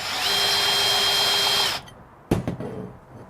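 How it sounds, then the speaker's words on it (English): Milwaukee compact band saw reamer reaming the end of 3/4-inch EMT conduit, a loud steady whirring tool run for under two seconds, then stopping, followed by a couple of sharp clunks and rattles of the pipe. "Then you just ream it"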